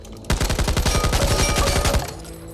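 M249 light machine gun in Back 4 Blood firing one loud close sustained burst of rapid, evenly spaced shots lasting about two seconds, then stopping.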